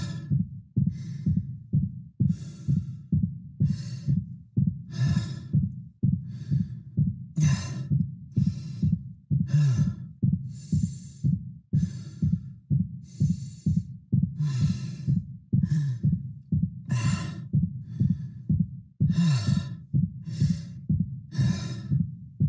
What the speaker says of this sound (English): you'll start to hear fatigued breaths, exerted breaths, start to mix in with his regular base breathing rate